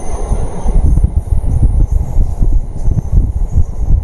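A Kasimbazar–Azimganj MEMU passenger train rolls along a curved line after leaving a bridge, its wheels and carriages giving a steady, loud rumble with rhythmic rattling throughout, close by and without talk.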